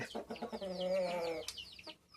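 Chickens cluck close by at a farm coop as a new hen returns inside, with a drawn-out tonal call in the middle framed by short, choppy clucks.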